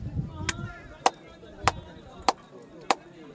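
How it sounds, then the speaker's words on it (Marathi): Sharp hand claps ring out in the stone durbar hall of Raigad fort, five evenly spaced cracks about a beat apart, each leaving a short echo, with faint murmuring in between. "आजही तो आवाज एको होतो बघा, टाळीचा आवाज ऐकायला मिळतो बघा"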